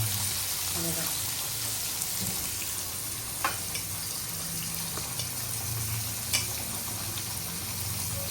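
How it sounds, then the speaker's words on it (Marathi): Surmai (kingfish) pieces fry in hot oil on a hot pan, giving a steady, close sizzle that runs the whole time, with a few soft clicks and pops on top. "आता पण तेल झालेलं आहे गरम आणि मी चुमे सोडलेले आहेत पटापट"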